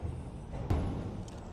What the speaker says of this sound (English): He hears the garbage truck.